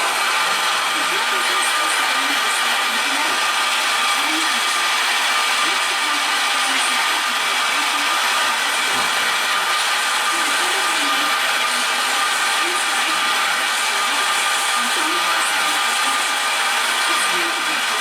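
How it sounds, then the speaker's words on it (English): A milling machine boring a center hole for an M6 screw in a Z-axis ball-nut mount, giving a steady, continuous high whirring hum that holds unchanged throughout. "we're going to bore our center hole for our M6 screw"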